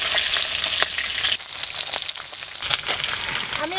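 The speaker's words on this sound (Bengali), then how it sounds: "মাছটা আমি উল্টিয়ে দিব" Pangas fish pieces frying in hot oil and being flipped over, a steady close sizzle with crackling pops and scraping as the pieces are turned.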